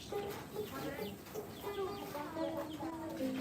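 Pet bird making chicken-like clucking: repeated soft clucks and short chirps at an uneven rhythm, fairly faint, with quiet voices in the background.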